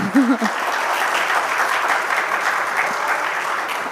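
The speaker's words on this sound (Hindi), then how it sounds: "तालियां बजा रही हैं, तालियां बजा रही हैं।" Audience at the Manthan Summit 2026 breaks into sustained applause, a full, even roar of clapping after a brief voice at the start, continuing steadily to the end.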